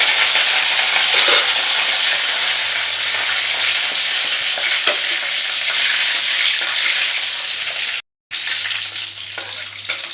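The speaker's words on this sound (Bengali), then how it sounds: "এর মধ্যে আমি নিম পাতাগুলো দেবো।" Neem leaves fry in hot oil with a loud, dense, continuous crackling sizzle close by, steady throughout apart from a short gap near the end.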